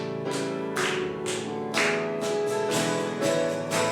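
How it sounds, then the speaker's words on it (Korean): Congregation clapping along at a Friday prayer service at Word Forest Church, hand claps landing roughly twice a second in a steady beat under a hymn's music. "이 시간 우리 박수 치면서 함께 찬양하도록 하겠습니다"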